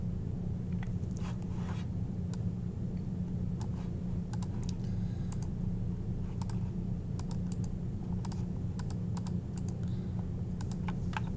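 Steady clicking of computer keyboard typing while renaming a sheet in a SolidWorks drawing, over a constant low background hum.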